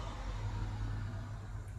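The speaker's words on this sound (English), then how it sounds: "Oh my god, so many cars." Road traffic outside, a low steady motor drone of cars going by, fairly faint and continuous through the moment with no talking.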